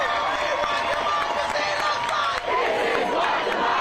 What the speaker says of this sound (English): you can see there crowds chanting in Tacoma